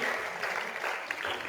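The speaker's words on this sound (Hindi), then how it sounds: "तालियों में कंजूसी ना करें" An audience claps steadily at a calligraphy exhibition, a dense burst of applause lasting a moment with no speech over it.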